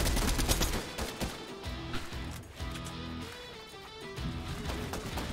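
Rapid bursts of video game gunfire crack and rattle through a battle royale fight, dense volleys mixed with tonal game effects and clatter, moderately loud and continuous.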